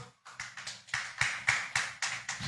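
A church congregation applauding during a worship service: a run of sharp, evenly spaced claps that fall into a steady rhythmic beat, moderately loud and close, with no talk over them.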